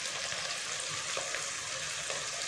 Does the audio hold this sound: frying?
yes